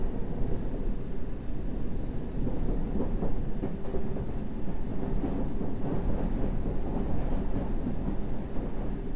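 A subway train in the World of Subways 3 game rolls steadily along the rails with a continuous rumble and faint clickety-clack, loud and unbroken with no talk.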